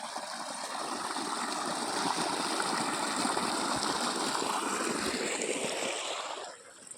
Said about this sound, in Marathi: इकडे पाणी चालू आहे